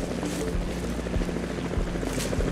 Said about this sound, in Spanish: En The Florida Project hace algo similar con los helicópteros, omnipresentes durante todo el metraje, y cuando no los vemos, los escuchamos.